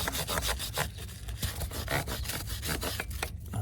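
A stiff brush scrubs a WD-40-soaked drive chain on a 2019 Honda CB500X motorcycle, giving steady close rhythmic back-and-forth rasping strokes with no talk.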